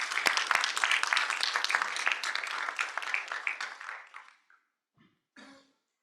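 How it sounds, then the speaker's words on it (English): Conference audience applauding panelists after a Pacific energy transition session, dense clapping that thins and fades out, followed by a few scattered coughs and throat clearing. "please give a round of applause for the panelists"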